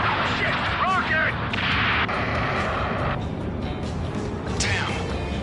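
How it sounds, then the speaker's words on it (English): Rocket attack and explosions in the Ace Combat 7 flight game, a loud continuous roar of blasts and heavy rumble with whooshing passes, no speech heard. "Rocket!"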